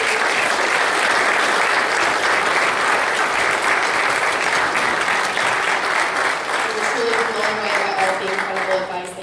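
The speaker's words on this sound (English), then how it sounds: "I'd like us all to sing a round of applause for these two" A live audience giving a sustained round of dense, loud clapping that holds steady for several seconds before thinning out, with a voice starting to speak faintly as it fades.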